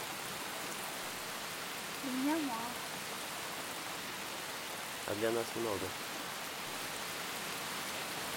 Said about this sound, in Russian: Из-за шума дождя я плохо слышу.